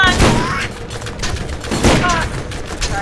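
Gunfire from the video game Borderlands: a couple of loud, sharp bursts of shots separated by a pause, with a voice talking over them.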